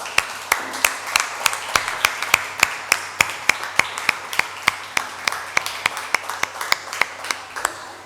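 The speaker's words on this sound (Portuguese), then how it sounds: "Uma salva de palmas por essas pessoas." An audience claps together in a steady, rhythmic beat at an event, sharp repeated hand claps ringing out loudly and evenly for several seconds.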